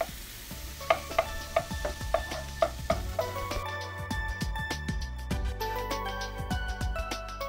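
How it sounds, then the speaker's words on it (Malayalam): Two eggs fry in a pan beside a mix of turmeric and chili powder, with a soft sizzle under a run of light, regular stirring taps from a spatula against the pan. "ഇതിലേക്ക് നമുക്ക് രണ്ട് മുട്ട പൊട്ടിച്ചിട്ട് കൊടുക്കാം."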